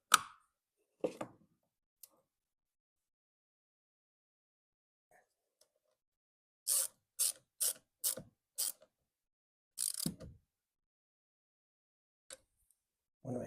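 A bolt on a car in a home garage is tightened with a ratchet in a few short bursts of quick clicking, close and faint against near silence, with scattered single knocks.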